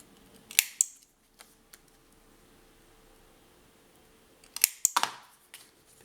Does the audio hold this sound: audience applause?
no